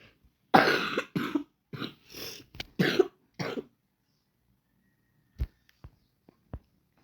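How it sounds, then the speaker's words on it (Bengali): A feverish person coughs in a close, loud burst of several harsh coughs over the first few seconds, then falls mostly quiet apart from a few short, sharp knocks and clicks near the end. "ভিডিওর মধ্যে অনেকগুলো কাশির আওয়াজ শুনতে পাবে"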